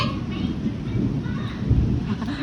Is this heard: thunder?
yes